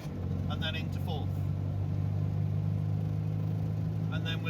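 A restored Fiat 500F's small engine drones steadily with a low hum while the car is driven and shifted through the gears, a constant close rumble with faint rattles on top.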